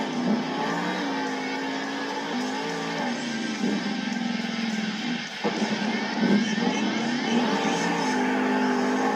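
Monster truck engines roar and rev continuously at a stadium Monster Jam event in Arlington, Texas, with the pitch rising and falling as a truck launches toward the center of the track, loud and sustained over crowd and arena noise, an announcer talking over it.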